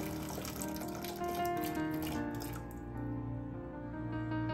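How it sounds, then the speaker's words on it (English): Old water siphoned out of a desktop waterfall terrarium through a tube into a bucket set below the water line, a steady close trickle and gurgle running continuously with a faint hum underneath. "Then I'll take the capped end and release that into a bucket that's sitting below the water line, and that'll help siphon out all of the old water from the setup."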